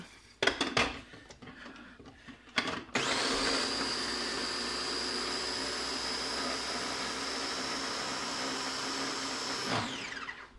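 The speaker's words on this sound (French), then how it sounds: "J'y rajoute un œuf, parce que si c'était chaud, l'œuf est cuit et ça, on ne veut pas. On va mixer ça." A countertop blender whirs steadily at high speed for about seven seconds, mixing butter, salt, pepper and a raw egg for a burger sauce, after a few kitchen clinks and taps, then spins down abruptly.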